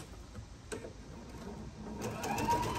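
A sewing machine stitching fabric for a tree skirt whirs steadily at close range, with a short clack partway through and a louder, busier run of stitching toward the end.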